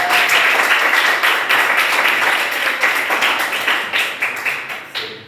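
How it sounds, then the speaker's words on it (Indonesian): A classroom audience at Universitas Mataram gives steady, dense applause for a student group after their presentation, loud and close, with the clapping thinning toward the end. "Beri tepuk tangan dulu untuk kelompok Belinda"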